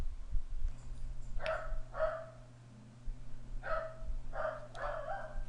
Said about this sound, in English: The dog is very happy somebody's home and someone will pay attention to him.